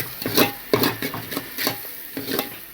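A spoon stirring gram flour into chicken gravy in a pot, making a series of regular scraping and clinking strokes with soft wet sloshing between them.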